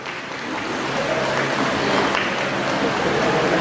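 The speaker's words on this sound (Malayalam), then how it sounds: "കയ്യടി കൊടുത്തേ, നല്ലൊരു സൂപ്പർ കയ്യടി." Audience applause at a stage event, a dense steady wash of many hands clapping that swells slightly and holds at a constant level.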